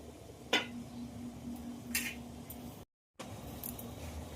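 A metal lid clinks onto a pot of simmering fish curry, with a sharp clank, a second lighter rattle and a faint lingering ring, close and without talk.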